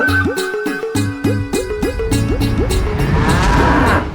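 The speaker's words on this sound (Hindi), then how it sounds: "वो काली वाली भैंस है ना, उससे जाके ले लो" A black water buffalo moos in a rhythmic run of rising, nasal calls, loud and close, with a steady rumble beneath and no talking.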